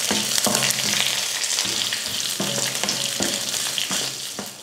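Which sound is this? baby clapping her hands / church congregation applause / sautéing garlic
sautéing garlic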